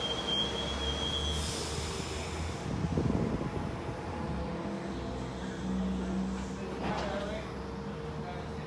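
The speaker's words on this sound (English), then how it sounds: "you've got your New Haven bound train with 9144 in the lead and 9417 in the back" A New Haven-bound commuter train with locomotives at both ends rolls steadily through a station, its low rumble continuous throughout with faint wheel squeal and brief higher bursts over the top.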